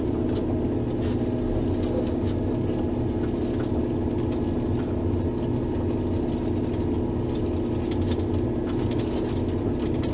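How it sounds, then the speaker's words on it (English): A snow plow truck's engine hums steadily throughout, a continuous low drone with no breaks, heard from inside the cab during plowing on a mountain road, with no talking. "Just the hum of the engine."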